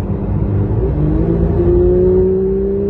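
A warmed-up car engine with an open exhaust revs and climbs past 4,000 to 5,000 rpm. The loud, close, rising engine note builds and holds, and no one speaks.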